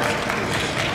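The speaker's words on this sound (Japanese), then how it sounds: "大きな拍手をお願いします" Audience applause at a New Year yosakoi dance event in a shopping mall, a dense, loud burst of steady clapping with scattered crowd noise.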